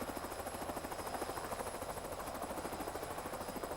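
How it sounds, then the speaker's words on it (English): Police helicopter searching an area for an armed criminals' vehicle, a steady rhythmic rotor chop held at an even, moderate level throughout with no voices. "The helicopter was called in to search the area"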